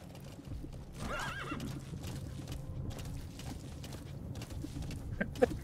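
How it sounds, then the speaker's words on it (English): In Metal Gear Solid V: The Phantom Pain, hooves clip-clop past at a steady pace while a horse whinnies briefly, with faint mechanical clicking in the background. "No, just a horse passing by."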